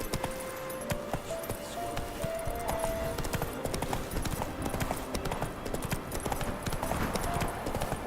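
Horse hooves clip-clopping at a steady quick rhythm in The Witcher 3: Wild Hunt, fairly faint and continuous under a busy game soundscape with faint tonal music, no speech.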